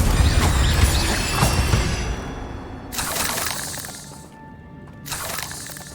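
A fire spell cast in Hogwarts Legacy gives a loud, crackling burst with shattering, hissing noise, followed by two shorter flaring surges and a quieter tail.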